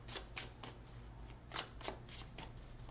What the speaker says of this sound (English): 3 outcome cards off the top of the deck after this shuffle